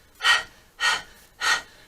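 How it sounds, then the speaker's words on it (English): Panting breaths with the tongue out, as in Kundalini yoga breath of fire: three forceful, evenly spaced exhalations, close and breathy, with no talking. "Tongue extends out and let's begin panting."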